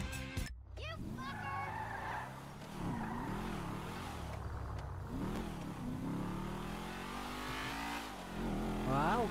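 A motorcycle engine revs repeatedly in the GTA 5 video game, with rising and falling whines, some tire squeal, and someone talking over the game sound.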